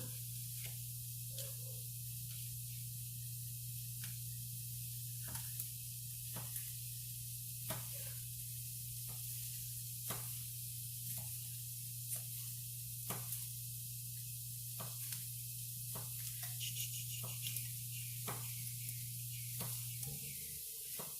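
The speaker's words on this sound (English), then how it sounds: "Can you hear it sizzling?" Fajitas sizzle in a Pampered Chef Rockcrok pot, a steady, soft hiss and crackle under a constant low hum, with faint occasional pops throughout.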